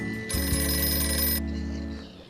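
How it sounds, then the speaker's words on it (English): A ringing-telephone sound from a parrot's voice: one sustained electronic-style trill lasting about a second, fairly loud and close, with a faint trailing tone afterward. "That was the parrot mimicking a phone."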